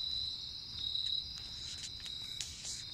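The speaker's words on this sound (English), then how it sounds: "What are you? Cricket?" Cricket chirping with a steady, thin high trill that runs through the whole stretch, fairly close but quiet, with faint rustling beneath and no talk.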